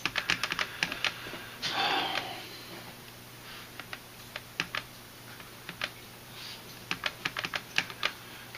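Button presses on a calculator as a number is keyed in, a quick run of sharp plastic clicks, then a brief rustle and further scattered taps, close and fairly quiet with no talking.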